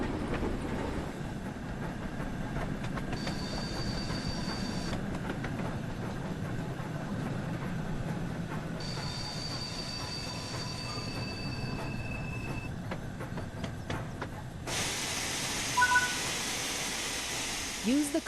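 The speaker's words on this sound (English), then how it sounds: "Use the combination brake to apply some braking force and bring the train to a stop." A steam train in the Train Sim World 4 game brakes to a stop, with a steady rumbling roll, clicking wheels and long high squeals from the brakes and wheels. A loud hiss of released air comes near the end.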